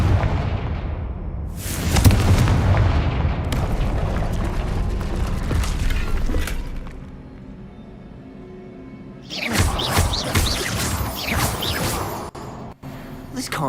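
Confringo fire spell in Hogwarts Legacy on Xbox exploding with loud booming blasts and crackling debris, a big burst near the start and another dense crackling stretch later, with game speech between.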